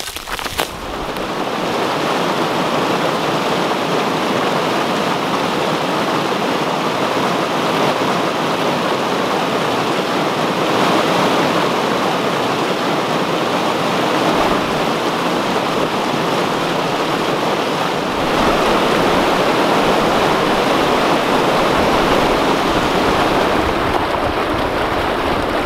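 A river flowing beside its banks in New Hampshire, a steady broadband rush of water that holds a constant level throughout with no talk.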